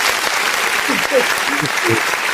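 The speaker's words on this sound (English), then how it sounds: "So they also need a round of applause as well." Steady clapping from an audience fills the room at a live public talk, loud and continuous, with voices speaking over it.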